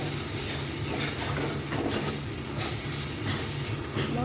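Spice paste for a spicy Bengali crab curry fries hard in a pan while it is stirred, giving a loud, steady, close sizzle with soft scraping that runs unbroken and with no talking.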